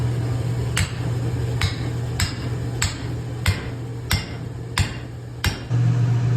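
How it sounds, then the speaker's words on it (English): A hammer repeatedly strikes a steel drift to open the eye of a forged hammer head, eight sharp ringing metallic blows at a steady, roughly even pace over a constant low background hum, close and loud. "we're going to drift the eye on the hammer with this drift right here and this hammer"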